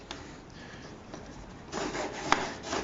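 Wooden stop block rubbing and sliding over the fence of a crosscut sled, a soft scraping that grows louder toward the end.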